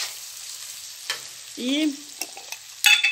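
Garlic and onion go into a hot pan for a rice and country sausage dish, with a quiet sizzle, a few sharp clinks and scrapes of a utensil, and a brief tonal squeak partway through.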